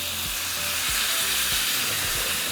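Salsa hits a pan of hot frying meat and sizzles loudly and continuously, a close, dense hiss with a few soft thumps of stirring underneath.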